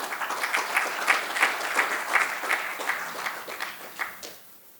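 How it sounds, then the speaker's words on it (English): Audience applause at a board meeting, a moderate room of people clapping in a loose pulsing rhythm with audible individual claps, tapering off toward the end, with no talk. "Please give everyone a round of applause again."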